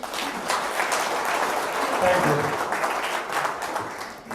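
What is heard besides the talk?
audience applause for guest speaker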